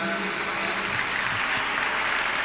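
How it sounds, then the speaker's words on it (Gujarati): A crowd at a Shiv Katha gathering in Pindara claps in a dense, continuous burst of applause that fills the whole moment. "ખૂબ તાળીઓના નાદથી પૂજ્ય માને"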